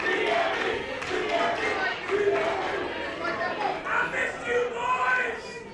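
Wrestling crowd at a Glory Pro Wrestling show shouting and chattering toward the wrestlers, a dense wash of overlapping voices with rising calls, steady and fairly close throughout.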